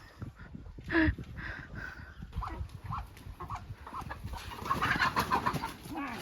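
Chickens cluck and squawk in a busy scramble as people try to catch them while rice is harvested on a farm. The birds sound close and agitated, with scattered shuffling and louder bursts near the end.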